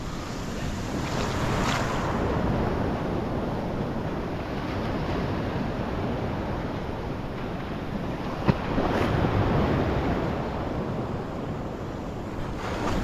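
Ocean waves wash steadily onto the shore during evening fishing in the Isle of Man, a continuous broadband rush mixed with wind buffeting the microphone and no voices.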